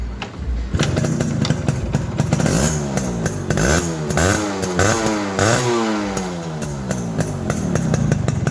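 A modified Yamaha RX 100 two-stroke motorcycle, rebuilt with Japanese bearings, connecting rod and rings, revs hard again and again, close and loud, its pitch climbing and falling in quick repeated bursts over a steady idle.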